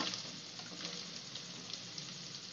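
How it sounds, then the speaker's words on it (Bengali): Faint, even sizzle of onion frying in a pan with sautéing ginger for chilli paneer, a soft continuous hiss with no voices. "জিঞ্জার একটু সতে হয়ে গেলেই আমরা ওতে অ্যাড করে দেবো অনিয়ন"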